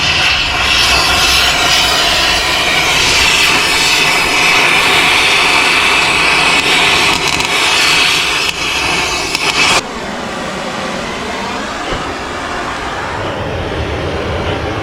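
Gas torch roaring steadily while burning out a stuck lug nut on a car wheel, a loud continuous hissing rush that drops abruptly to a quieter, steadier flame about two-thirds through.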